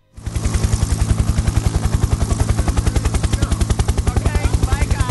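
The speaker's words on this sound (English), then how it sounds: "Hey, the military chopper's coming." Military helicopter arriving in the Friday the 13th video game, a loud close rhythmic rotor thumping that starts abruptly and holds steady, pulsing evenly for several seconds.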